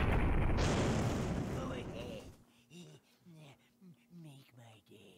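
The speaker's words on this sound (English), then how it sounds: "That was a missile." A missile explosion in a video game, a loud, broad blast and roar that fades away over about two seconds, then someone speaking in short bursts over a faint background hum.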